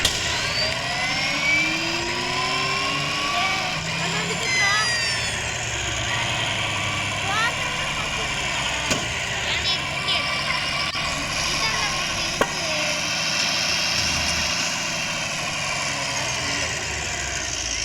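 A car engine runs steadily at a low idle-like hum for the whole stretch, moderately close, with faint shifting tones over it.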